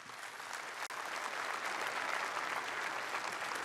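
An audience applauding a band, dense continuous clapping from a crowd throughout with a brief dip near the start, no voices.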